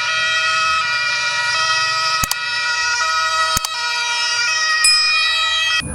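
A toy ambulance plays a loud electronic siren as a steady, tonal wail with a few sharp clicks breaking through at intervals, heard up close with no talking over it.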